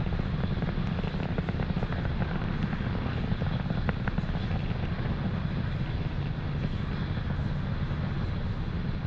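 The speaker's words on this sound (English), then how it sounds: "You just saw there Falcon 9 transitioning to faster than the speed of sound." A SpaceX Falcon 9 rocket on a Starlink launch roars at a steady, dense rumble throughout as it climbs toward supersonic speed, broad and constant with no pauses.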